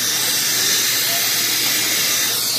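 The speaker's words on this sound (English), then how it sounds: "sucking the cooling system down into a vacuum" A vacuum refill tool draws a car's coolant system down into vacuum, producing a loud, continuous airy hiss that holds steady from start to finish.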